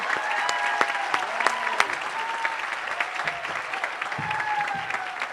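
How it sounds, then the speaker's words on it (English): Audience applause for Ms. Davenport at an 8th grade awards ceremony, steady clapping throughout with a few sharp claps and light crowd murmur underneath. "we need to give a round of applause for Ms. Davenport"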